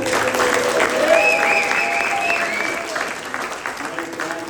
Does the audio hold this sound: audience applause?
yes